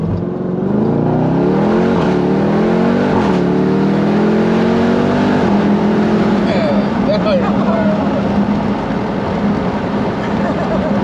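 A Jeep Grand Cherokee Trackhawk launches hard from a stop, its supercharged engine revving loud and close, the pitch climbing through a couple of shifts before settling into a sustained drone, with a voice briefly audible.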